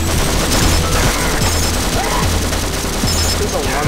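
Automated turret in the co-op game Sven Co-op firing sustained rapid gunfire, loud and close, mixed with game effects and people talking over it.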